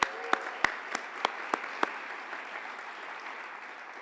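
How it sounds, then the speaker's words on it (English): Audience applause at a Boulder Chamber leadership celebration held at the Dairy Arts Center, opening with a few sharp, distinct claps that quickly thin into a soft, fading patter from the room. "Let's give a round of applause for Dairy Arts Center."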